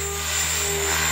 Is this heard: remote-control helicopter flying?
yes